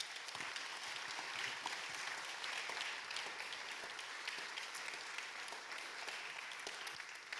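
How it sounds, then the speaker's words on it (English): A lecture audience at the Noirwich crime-writing festival gives sustained applause, a dense, steady wash of many hands clapping throughout with no one speaking. "Yeah, a round of applause now."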